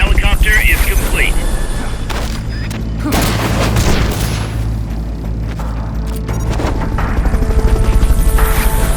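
Rotor drone of the Fulton recovery helicopter in Metal Gear Solid Peace Walker, a steady low thrum running throughout beneath booming game effects, bursts of gunfire-like noise and a voice talking.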